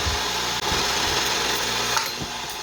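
A steady, coarse power-tool whir hums continuously nearby, sanding a wooden bluegill topwater swimbait lure; the noise stays even throughout with only a brief dip.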